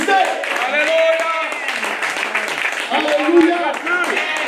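Church congregation applauding and acclaiming God during a service, mixed clapping and raised voices under a preacher's amplified speech, continuous and lively.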